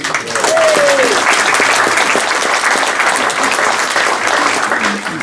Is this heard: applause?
yes